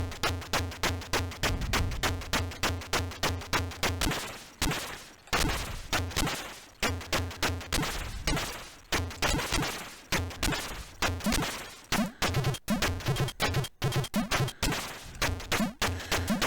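Rapid, regular shooting from the Atari ST shoot-'em-up Z-Out, dense repeating blasts pulsing over loud continuous game music and effects throughout.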